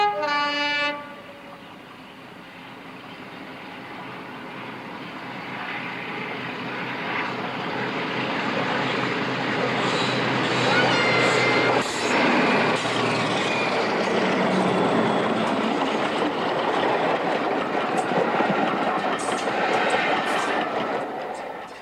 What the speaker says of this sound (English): The Western returned double-headed with the Class 40.